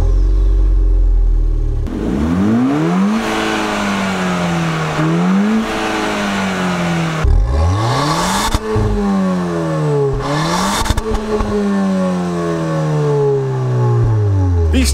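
Porsche Boxster's 2.7-liter horizontally opposed flat-six engine revving loudly through its exhaust, pitch repeatedly climbing and falling in several sharp throttle blips and sweeps, close and alone.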